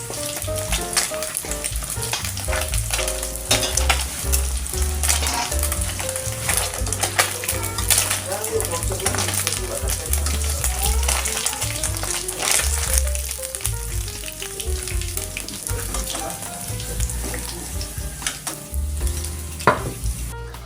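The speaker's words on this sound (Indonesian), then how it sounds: "Di sebelahnya Pak suami lagi masak pisang goreng." Bananas frying as pisang goreng in a pan, a continuous loud sizzle of hot oil with occasional clinks of utensils against the pan and a low background rumble throughout.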